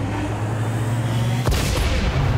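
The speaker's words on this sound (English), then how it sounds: "We take another shot from this cannon." Cannon battery in X-COM 2 firing on the squad: one sudden loud boom that cuts through a steady low game hum, then broadband rumble and debris trailing after, with no talk.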